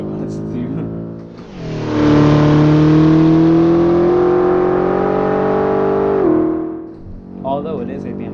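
A 2020 BMW X6 M SUV engine roars up through the revs on the Nürburgring, pitch climbing steadily for several seconds before dropping off as it shifts or lifts.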